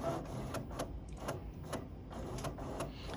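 An old HP Deskjet 600C inkjet printer runs off a colour page, its print head shuttling with a steady mechanical whir broken by regular clicks and ticks, close and continuous with no speech.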